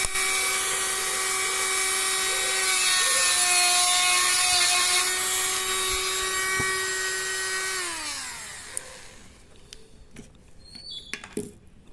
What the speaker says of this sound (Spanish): Al quitarle un poco con la fresadora